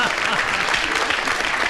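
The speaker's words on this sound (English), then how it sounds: "Because the audience applauded" A studio audience at a radio panel game bursts into close, dense applause, with voices talking over the clapping throughout.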